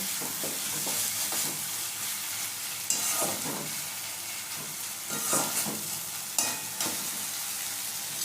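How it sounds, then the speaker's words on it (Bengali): Amudi fish being stirred into spices frying in a pan, a steady sizzle broken by repeated scraping strokes of the spoon, close and fairly loud, with no talking. "আমদি মাছটা সেটা দিয়ে দিচ্ছি মশলার সাথে ভালো করে মিশিয়ে নিচ্ছি"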